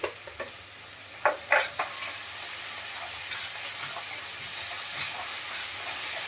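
Capsicum and cowpeas sautéing in a pan: a few sharp clanks of a utensil early on, then an even, hissing sizzle that runs steadily to the end without speech.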